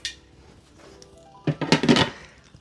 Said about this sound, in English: let me put the lid on here